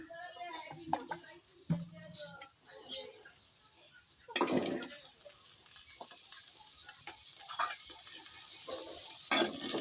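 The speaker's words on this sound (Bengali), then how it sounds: "এখন তেল দিয়ে আলুগুলো ভেজে নিচ্ছি" New potatoes fry in soybean oil in a village kitchen, with intermittent stirring clatters and scrapes over a faint, steady sizzle.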